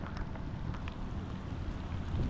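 Rain falls steadily during the South Florida rainy season, a dense, continuous patter with low rumble and no pause, fairly close and moderately loud.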